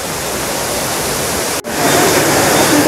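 Manyueyuan waterfall roars as a steady, loud broadband rush of falling water, unbroken except for a momentary dip just past halfway.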